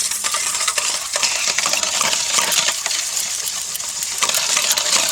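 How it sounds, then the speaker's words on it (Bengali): A spoon scrapes and clinks against a big bowl as sour yogurt is stirred until creamy, a steady run of close, bright scraping and tapping sounds with no talk. "টক দইটাকে এবার আমি সুন্দর করে এইভাবে নেড়ে চেড়ে একদম ক্রিমের মতো করে নেব"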